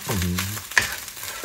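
Fried rice fries in a home kitchen pan with a continuous soft sizzle. A short scrape or clink sounds partway through, and a brief voiced tone is heard near the start.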